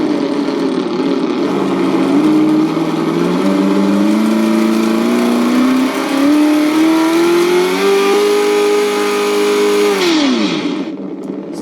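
An ESS-One engine sound system simulates a car engine revving under light throttle, a steady droning engine note that climbs gradually in pitch over about ten seconds, then drops away sharply before falling quiet, with no talking.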